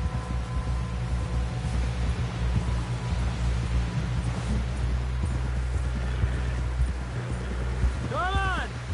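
Steady rhythmic hoofbeats of a galloping horse in Red Dead Redemption 2, loud and continuous, with a brief whinny near the end.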